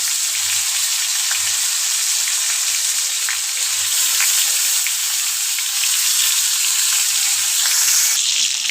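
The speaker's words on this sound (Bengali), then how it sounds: "এদিকে মাছ ভাজা আর হচ্ছে ভাজি হতে থাক" Steady, dense sizzling of fish rubbed with turmeric and salt frying in hot oil, continuous and close, with no talking.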